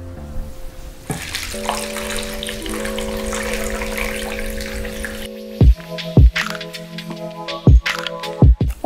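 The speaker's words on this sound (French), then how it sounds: "Et vous allez les recouvrir entièrement d'eau." Water pours into a pot over pieces of kabocha pumpkin for simmered Japanese-style squash, a steady running stream with a resonant tone, followed by several sharp knocks and clatters near the end.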